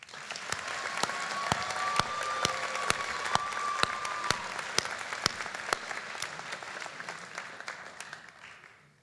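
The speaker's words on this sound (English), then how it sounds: "Please help me give a round of applause to the people behind the scenes" An audience at a 2022 Ferguson High School graduation ceremony applauds, a dense sustained clapping from a large crowd across the whole stretch that fades gradually toward the end.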